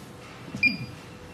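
A single short electronic beep from a guest paging system pager, a thin high tone lasting a fraction of a second against quiet background noise.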